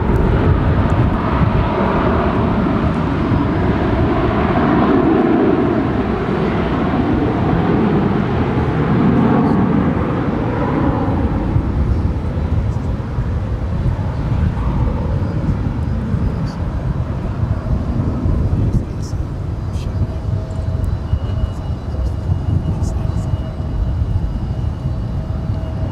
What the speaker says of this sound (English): Cleared for departure on 18 left is American Airlines flight 2459 heading to Los Angeles, LAX. It's an A321.